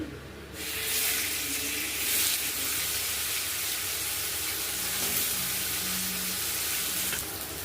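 Paneer pieces frying in mustard oil for a paneer biryani give a continuous bright sizzle and hiss, close and steady with occasional stirring.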